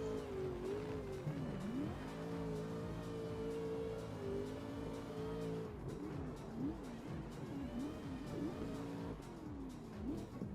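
Racing video game cars, two Corvettes among them, engines droning and shifting pitch steadily throughout, with tire noise and rough impacts as they crash into the wall, continuous and fairly close.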